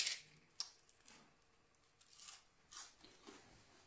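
Bites into crispy white chocolate Christmas bark with cranberries and pistachios, a few sharp close crunches followed by softer chewing, no talking.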